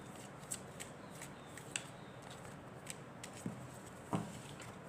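Tarot cards are shuffled and drawn, giving faint, sparse card flicks and soft taps scattered over a quiet hiss, with no talking.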